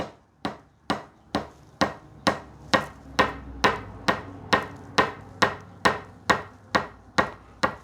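Evenly spaced single drum strokes to a metronome in a steady, brisk rhythm, about two per second, each sharp and quickly decaying, played alone.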